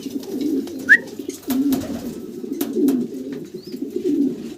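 Big-size house pigeons coo in a low, rolling murmur that swells and pauses in repeated phrases, close and fairly loud, with a few faint higher chirps and clicks in the background.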